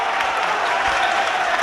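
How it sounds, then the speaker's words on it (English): Football crowd noise at a York City v Hartlepool United National League match, a broad steady roar of cheering and clapping from the stands, continuous and moderately loud throughout. "Crowd trying to get involved."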